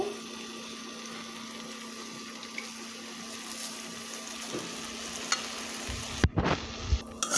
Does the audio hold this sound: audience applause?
no